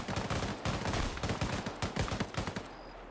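Repeated rifle shots and short automatic bursts echo from an Arma 3 multiplayer firefight. The cracks come in quick, clustered volleys, loud and near, with no talk over them.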